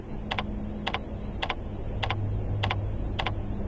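Keys clack on a computer keyboard in short, evenly spaced bursts of a few quick strokes each, steady and close over a low room hum.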